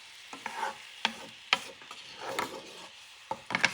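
A spoon scrapes and taps around a pan while a homemade glaze for bison ribs is stirred over medium heat, giving several short, sharp clacks and soft swishes, close and fairly quiet with no talking.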